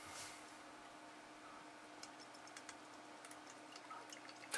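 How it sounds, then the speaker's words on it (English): A pint of ice-cold beer being poured from a can into a glass, heard as a faint, quiet trickle with scattered small drips and ticks over low room noise. "Takes a right skill, this does, to pour a nice pint."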